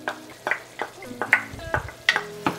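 Spaghetti sauce with oyster sauce and soy sauce is stirred in a pan, a spoon scraping and clacking in repeated strokes over a soft sizzle.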